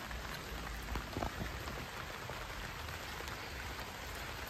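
Steady rain falls and patters on sponge gourd plants, a constant dense hiss with occasional louder drops.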